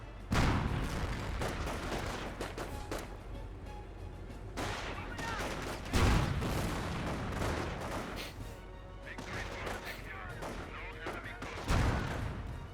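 Gunfire volleys in the World War II strategy game Company of Heroes, with dense rattling rifle and machine-gun fire and heavier booming shots around 0.4, 6 and 11.8 seconds, sustained loudly throughout.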